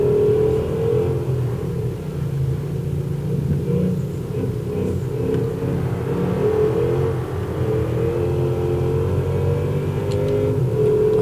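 Car engine driving in the BeamNG driving game, a steady mid-pitched drone with shifting revs and rumbling low end, continuous and close throughout.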